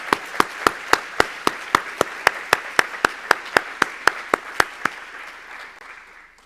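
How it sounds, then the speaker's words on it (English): Crisp, evenly spaced claps from an awards ceremony audience ring out loud and close, a steady rhythmic round of about twenty beats that stops and leaves a brief fading room tone. "One more round of applause for our recipients."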